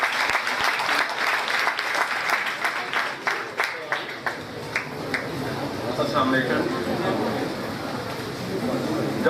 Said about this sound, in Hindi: आपकी भरपूर तालियों में डॉक्टर मुबारक अहमद को गुजारिश करूँगा।